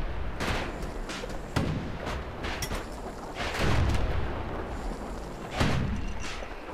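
Shots from the video game Bastion crack out loud and close as a series of sharp, separated blasts with thuddy booms, spaced irregularly every second or two.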